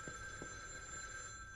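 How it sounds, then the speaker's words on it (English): A telephone rings inside the horror video game The Evil Within 2, a steady electronic ring tone held alone over low ambient game noise, with faint distant thuds beneath. "Who's on the phone?"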